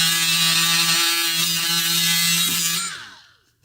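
A power tool grinds steadily against a plastic tab on an E30 instrument cluster, a loud continuous buzzing whir with a slight dip midway that winds down and stops near the end.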